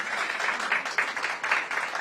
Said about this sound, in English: Let's give Team Cherry Blossom Festival a big round of applause.